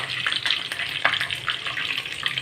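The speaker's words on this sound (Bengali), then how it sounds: "3 টেবিল স্পুন সাদা তেল গরম করে সাদা আর কালো সর্ষেটা দিয়ে দিলাম, কারি পাতাটা দিয়ে দিলাম" Black and white mustard seeds, curry leaves and chana dal fry in about three tablespoons of hot white oil. The sizzle is loud, dense and continuous, with quick crackling pops up close.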